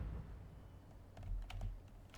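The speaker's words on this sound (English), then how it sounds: "if you can hear my keyboard going click click click" A computer keyboard clicks during a game of Fortnite, a few quick, faint keystrokes over a low rumbling game background with no talking.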